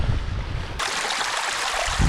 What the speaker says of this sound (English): It's got fresh water creek right here too.